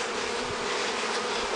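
Honeybees buzz steadily while being moved into fresh hives, a close, continuous droning hum that stays even throughout with no talking.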